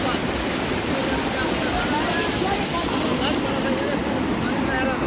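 A cold, fast-flowing river in a valley near Islamabad rushes in a loud, steady, broadband roar that fills the whole stretch without letting up.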